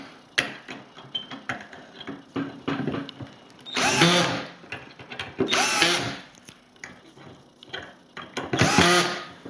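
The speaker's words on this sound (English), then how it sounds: "you can drill some pilot holes and then screw into those pilot holes with the screws that you want to use" Cordless power drill driving screws into pilot holes while mounting a Lowrance Hook2 4x GPS fishfinder base onto a plate, three loud whirring bursts between rattling clicks and handling clatter.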